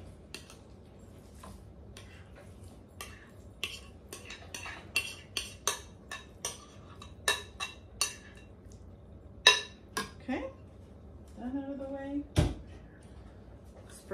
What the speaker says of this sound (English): you're just going to put this in your pan